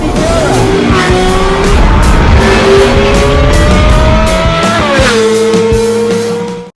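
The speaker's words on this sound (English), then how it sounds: "Driving a Lamborghini Miura." A Lamborghini Miura is driven hard, and its engine roars loudly and continuously close by, with the pitch climbing through the gears and dropping at each shift. No voices are heard over it.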